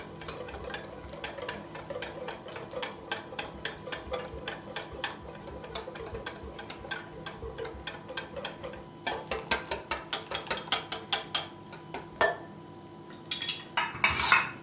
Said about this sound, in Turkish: Şöyle hiç topak kalmadığından emin olana kadar çırpıyoruz.